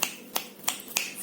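Four crisp finger snaps at an even pace, close and clear against near silence, part of a children's body parts rhyme.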